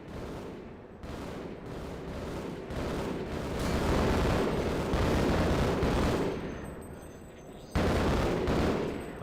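Repeated grenade explosions and bursts of gunfire from a Half-Life firefight at Black Mesa, loud rolling blasts and crackling shots filling the clip with brief lulls between volleys.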